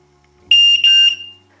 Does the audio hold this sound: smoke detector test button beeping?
yes